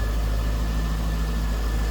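A 2001 Chevrolet Corvette convertible's 5.7-liter LS1 V8 idles close by, a steady, deep, even rumble with a constant low drone and no other sound.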